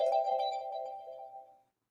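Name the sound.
phone message notification tone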